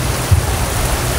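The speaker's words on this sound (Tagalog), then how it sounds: "maghintay sana ako tumila yung ulan" Steady rain falling outdoors, a continuous hissing wash of drops with faint low thumps, no voices.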